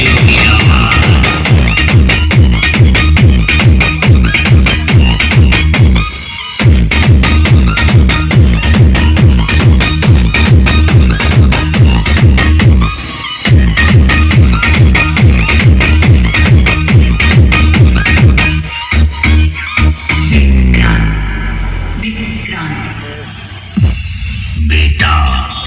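Loud music booms from a Narsingh Radio loudspeaker sound system at Indara Bazar, Mau, with a heavy, pounding bass beat that drives on steadily, stops briefly twice, then fades into a sweeping effect at the end.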